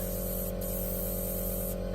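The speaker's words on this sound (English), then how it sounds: "A bit of a test spray there." An Iwata airbrush gives a short test spray of paint for a model F4U-1A build, a close, steady airy hiss lasting about two seconds, with no voices.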